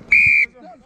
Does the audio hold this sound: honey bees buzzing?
no